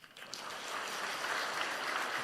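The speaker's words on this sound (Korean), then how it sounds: "모든 영광의 박수는 하나님께." A church congregation at an evening revival service breaks into applause, a dense wash of clapping that swells and holds steady for a couple of seconds.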